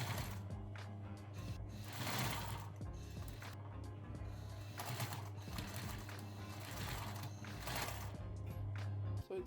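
Sewing machine stitching along both edges of a seam on a Vivienne Westwood-inspired DIY corset, a steady close mechanical whir with rapid needle chatter running continuously.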